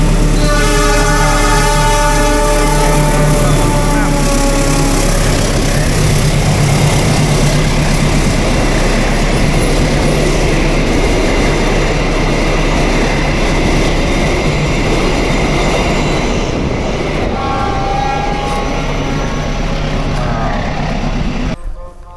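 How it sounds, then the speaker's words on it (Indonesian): The Lodaya passenger train, hauled by a locomotive, roars past with a continuous heavy rumble, its horn blaring at the start and sounding again near the end. "kereta apinya sudah datang"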